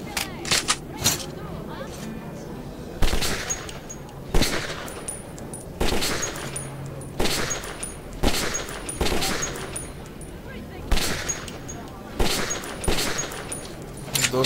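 Repeated gunshots on a firing range in the video game Metro 2033, sharp bursts spaced every second or so across the clip over a busy background, with faint talk mixed in.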